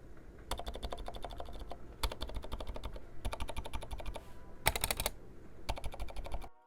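A mechanical keyboard fitted with Gateron Alias Silent MX switches and MSA profile double-shot keycaps is typed on in close, muted bursts of rapid key presses, broken by short pauses, with no talking.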